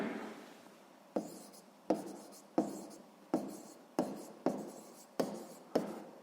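A pen writes out a sixth-grade maths answer on paper for a pie-chart exercise: about nine crisp, close strokes, each a sharp scratch that fades, in a steady rhythm with no talk over them.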